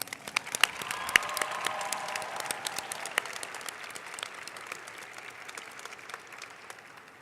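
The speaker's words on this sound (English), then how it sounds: "Can we have one more round of applause, please?" Applause from a sizeable crowd at a closing awards ceremony, steady clapping that swells early then gradually tapers off, with a few sharper individual claps standing out.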